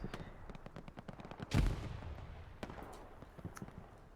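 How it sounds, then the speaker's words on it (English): Rapid bursts of video game gunfire crackle throughout an 18-versus-18 playoff match, with a louder, heavier blast near the middle, set against a busy game soundscape. "Here's gunfire."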